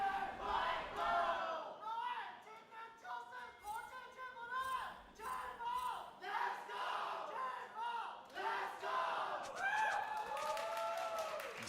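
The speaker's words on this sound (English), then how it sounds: "As we hear the cheers of the crowd for both of the competitors" A large crowd cheers and shouts at a League of Legends esports season finals arena, with rising and falling waves of voices, whoops and some clapping, continuous and loud throughout.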